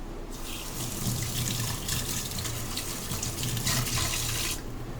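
A kitchen tap runs steadily into a sink while a cooking utensil is rinsed underneath, a continuous close gush of water with splashing that shifts slightly as the item is moved, stopping just before the end.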